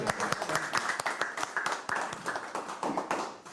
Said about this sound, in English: Anyway, round of applause.